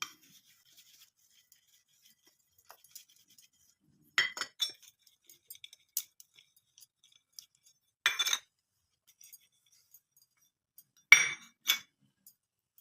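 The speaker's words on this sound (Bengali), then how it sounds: "বাটিগুলোর মধ্যে আমি একটু সাদা তেল ব্রাশ করে নেব।" Oil is brushed into four small bowls before pitha batter goes in, with sparse, faint glassy clinks and taps at irregular intervals. Long quiet gaps fall between a few brighter knocks.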